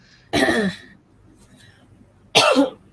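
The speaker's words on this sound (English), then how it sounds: "this cough is not going away" Two separate coughs, loud and close, about two seconds apart, with near silence between them.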